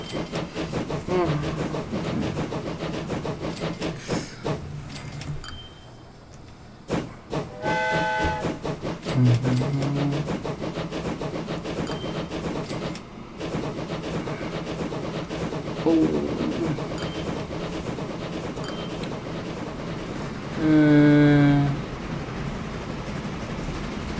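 A goods train runs in the video game Train Fever Nordic DLC, with a steady rumbling rail drone, hissing, and several steam whistle blasts, the loudest near the end, while someone talks over it.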